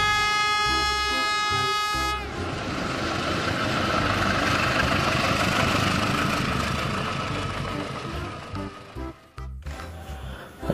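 A CC03 locomotive in a video game, a loud continuous engine rumble with a steady drone and a sustained horn-like tone at the start, ending with clunks and a brief drop-out.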